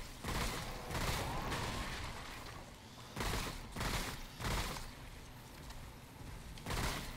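Gunfire in a Remnant: From The Ashes boss fight, bursts of heavy shots in several clusters with brief pauses between, loud and booming.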